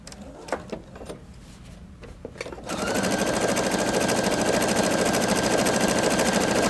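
After a few faint clicks and taps, a Pfaff Creative 3.0 sewing machine starts up and runs fast and loud without a break, stitching an appliqué at close range.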